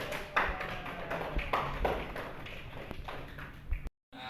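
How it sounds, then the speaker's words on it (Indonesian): Students in a classroom give a brief, light round of clapping, with soft scattered taps and thumps at moderate distance before a short silence. "Tepuk tangan."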